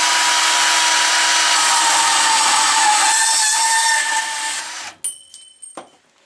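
A Milwaukee mini band saw cuts through 3/4-inch rigid conduit, a loud steady broadband whine of blade on metal for about five seconds, then it stops and a few light clicks and clanks of the tool and pipe follow.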